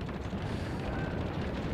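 Heavy naval guns fire aboard the Admiral Graf Spee in World of Warships, a dense, loud rumbling boom that fills the moment without clear separate shots.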